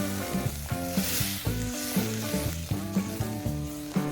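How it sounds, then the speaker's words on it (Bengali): Kadai paneer cooks in a kadai with added water over a high gas flame, a steady bubbling sizzle broken by regular light knocks and scrapes of a stirring utensil, close and moderately quiet. "এবার গ্যাসের ফ্লেমটাকে হাই করে দিতে হবে এবং কিছু সময়ের জন্য এটা জাল দিতে হবে।"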